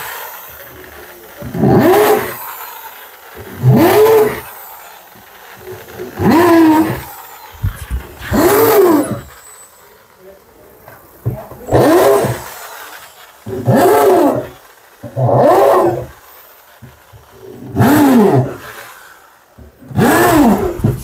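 A power drill bores screw holes into a subwoofer cabinet board in about nine loud, evenly spaced bursts, each one whining up in pitch and then dropping back to near quiet between holes.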